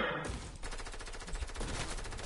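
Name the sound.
gunfire aimed at the player in a video game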